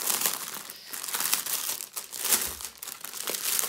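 A protective plastic bag crinkles and rustles steadily throughout while being handled during the unboxing of a diamond painting kit, close and continuous with no talk.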